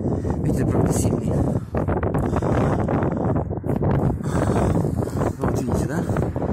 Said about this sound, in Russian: Ветер, правда, сильный.